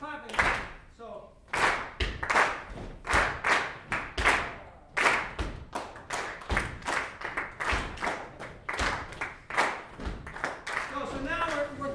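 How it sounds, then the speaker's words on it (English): Hands clap out a rhythmic pattern in a music masterclass, sharp claps landing in an uneven repeating beat, close and fairly loud, with brief voices at the start and end. "Keep clapping."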